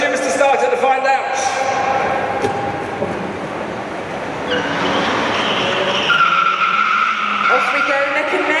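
A 2013 Ford Focus ST and a 2012 Citroen DS3 launch side by side off the start at an indoor live motor show in Birmingham, with engines roaring and tires squealing loudly. An excited commentator talks over them throughout.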